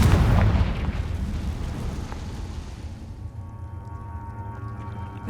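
The Confringo fire spell exploding in Hogwarts Legacy, a deep booming blast that hits loud at the start and rolls off into a long, low rumbling decay.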